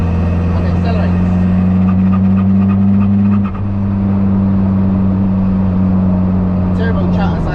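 Diesel-swapped Toyota MR2 accelerating hard, with a strong, steady low drone of the engine and turbo heard from inside the cabin, loud and continuous with a brief dip midway, with no talk.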